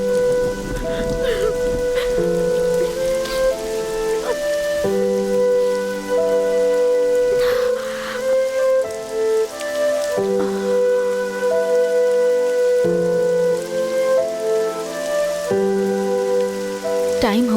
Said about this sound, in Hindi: बारिश हो रही है बेटा।